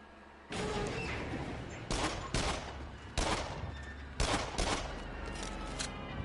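Gunfire in the shooter game Destiny: a continuous rattle of rapid shots with several sharper, louder bursts punching through at irregular intervals, close and steady for several seconds.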